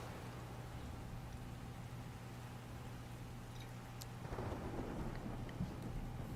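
Steady rain falls in a video game, with a low rumble of thunder underneath; the downpour swells and grows louder toward the end, and no one speaks.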